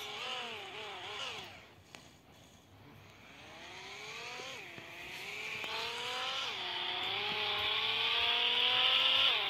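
A motorcycle in the Roblox video game, its engine whining and revving with rising and falling pitch as it drifts, loud and steady and growing louder toward the end.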